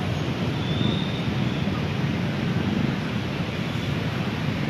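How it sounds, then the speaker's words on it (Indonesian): The Kalijompo river rushes beneath a collapsed road bridge, a dense, steady roar of fast high water that stays loud and unbroken throughout with no voices. "Ini adalah Sungai Kalijompo yang melintas di bawah jembatan jalan yang ambles ini."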